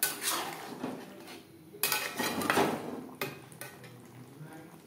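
Boiled moong dal is tipped from a bowl into a pan of spiced fish heads, with clattering and scraping of metal utensils against cookware in a few sharp bursts, fairly close and quiet.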